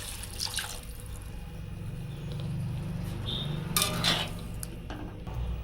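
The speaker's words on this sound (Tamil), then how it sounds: "இப்போ தண்ணி விட்டுப்போம்." Water pours and splashes into a metal pot amid light clinks of cookware, fairly quiet and close, with about two litres added for a chicken salna.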